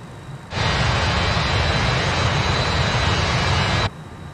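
MD-82 jet engines at climb thrust in a flight simulator give a loud, steady broadband roar that starts abruptly, holds evenly for about three seconds and then cuts off.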